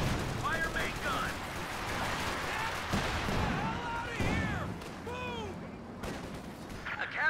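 A tank main gun and rifle and machine-gun fire sound in a Company of Heroes 2 battle. Loud, dense bursts of shots and blasts overlap continuously, with voices shouting throughout.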